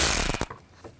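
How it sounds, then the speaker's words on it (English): A ratchet with a 7mm socket clicks rapidly while backing out a door bolt on a 2000-06 GMC Yukon door, a close, loud burst of pawl clicks ending abruptly into quiet. "Use a 7mm socket. Take that bolt out, and this one."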